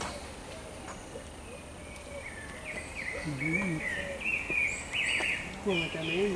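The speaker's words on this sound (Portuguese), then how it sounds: "Os passarinhos aqui estão cantando pra show" In a park with plants and a grotto, birds sing and chirp in a lively mix of whistled phrases and trills. Several birds call, mostly faint and distant, a few nearer toward the end.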